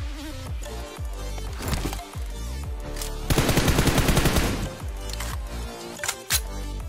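Rapid automatic rifle fire in the battle-royale shooter PUBG Mobile crackles in a loud, dense burst around the middle, with scattered shots and game effects on either side.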